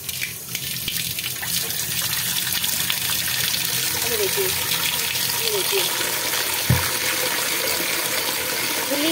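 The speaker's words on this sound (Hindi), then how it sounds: "मैंने पतीला साफ पानी से धो लिया है, फिर भी मैं एक बार और धो लेती हूँ।" Running water pours steadily into a cooking pot as it is rinsed again under the tap, a continuous broadband splash with someone talking briefly over it.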